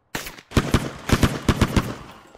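Rapid bursts of video game gunfire aimed at police in MadOut2, about eight or nine loud, close shots in an uneven rhythm with a trailing echo at the end.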